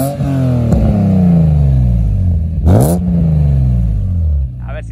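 BMW M3 E36 Individual with Kelleners Sport tuning, Bilstein dampers and an aftermarket exhaust, revving hard and accelerating. The loud engine note climbs through repeated gear pulls, with a sharp burst of revs near the middle, and it stays close and dominant throughout.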